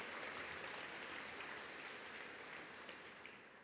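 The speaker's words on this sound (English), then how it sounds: "let's give a round of applause for the Indiana State Fairgrounds for serving us this morning" Audience at a charity breakfast at the Indiana State Fairgrounds clapping in steady, even applause, fairly quiet and distant, tapering slightly toward the end.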